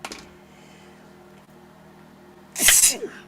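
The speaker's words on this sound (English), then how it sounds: "I've been sneezing" A single loud, sharp sneeze bursts out near the end after a stretch of near silence.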